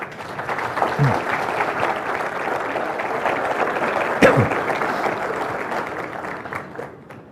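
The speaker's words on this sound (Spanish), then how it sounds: "Con ustedes, el padre Alfredo Sainz, para quien pido un aplauso fuerte." A lecture audience gives a strong round of applause for a speaker, a loud, sustained wash of many hands clapping that holds steady for several seconds before tapering off near the end, with a faint voice briefly underneath.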